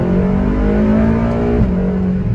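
A Ferrari California engine pulls hard in second gear, a loud, steady, close-up drone that climbs in pitch and then drops briefly, as at a shift or lift near the end.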